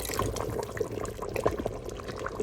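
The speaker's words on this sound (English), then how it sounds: "I'll be stirring with one hand and pouring a little at a time." Cornstarch slurry is poured a little at a time into nihari in an Instant Pot while it is stirred, giving soft liquid sloshing and gentle stirring noises. The sound is quiet, with no voices.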